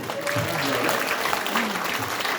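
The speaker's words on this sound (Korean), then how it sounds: "그럼 박수 한번 주세요." An audience at a talk by a former SBS announcer gives brief, even applause. It comes as a soft, continuous patter of many hands, with voices faintly mixed in.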